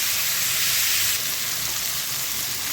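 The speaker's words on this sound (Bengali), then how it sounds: "এটা দু তিন মিনিট এবারে ভাজতে হবে" Food sizzles loudly in a hot pan, a dense steady frying hiss that eases slightly partway through, with no voices.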